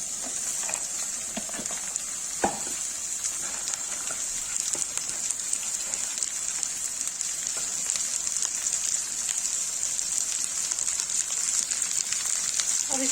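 Okra frying with onions in a pan gives a steady, close sizzle with scattered pops and small crackles that continue evenly throughout, with no one talking.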